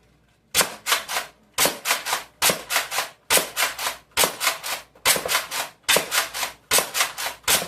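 An X-Shot Longshot toy foam blaster is cycled and fired again and again. It makes about a dozen close, sharp clusters of two to four quick scraping clacks, evenly spaced, with no voices.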